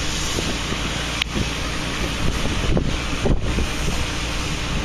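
Steady hissing spray of water mixed with sputtering air from an irrigation sprinkler head during winterization, continuous and close, with buffeting wind noise throughout.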